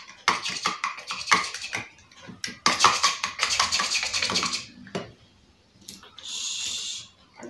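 Toy food being cut during pretend kitchen play, with a string of quick plastic clicks and scraping taps in uneven bursts, then a softer hissing rustle near the end.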